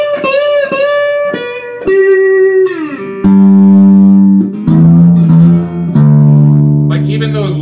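Acoustic guitar built from a wooden box, played as a run of plucked notes that moves from higher, ringing tones down into heavier, boxy low notes. The notes sustain and overlap, close and loud, with no voices.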